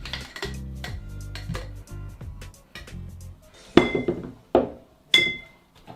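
Cocktail shaker with two big ice cubes knocked apart to separate, heard as a run of rattling metallic clinks followed by three sharp, loud bangs close by.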